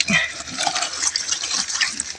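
Water gushing strongly from a freshly dug spring, a bright, splashing continuous flow heard close with faint bubbling, steady for the whole stretch.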